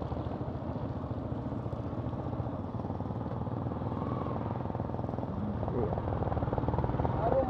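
A motorbike being ridden in the early morning, its engine a steady close throbbing drone that swells slightly toward the end, with people talking over it.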